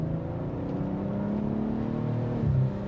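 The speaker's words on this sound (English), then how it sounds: "As you can hear, engine sound, it's your typical B58." A BMW B58 inline-six engine in a 2023 BMW M340i xDrive idling with a deep, rumbling sport exhaust note, rising briefly in a short rev near the end.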